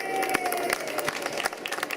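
An audience at the 2013 Boy Scouts of America National Jamboree in West Virginia applauds, a dense burst of many hands clapping at once, brief and fairly loud.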